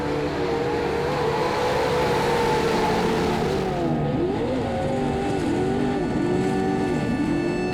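Racing trucks at the Reno race track roar together after the green flag, loud sustained engine drone with revving pitch sweeps and rising and falling whines throughout.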